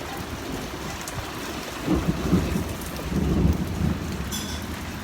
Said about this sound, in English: That was a big thunder boom.